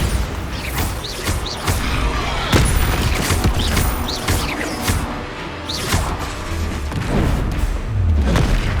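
Exploding Bombarda blasting spells in the Hogwarts Legacy video game: repeated loud booms and crashing impacts with swooshing bursts, a steady heavy battle din with occasional voices underneath.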